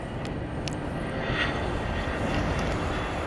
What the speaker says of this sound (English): Another private jet landing on runway